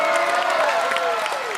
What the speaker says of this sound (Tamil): எங்கள் விருச்சக ரோபோ சங்கர் அவர்களுக்கு ஒரு பெரிய கைத்தட்டுமா